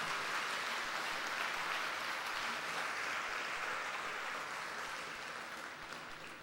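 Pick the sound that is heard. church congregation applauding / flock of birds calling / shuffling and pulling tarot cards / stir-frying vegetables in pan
church congregation applauding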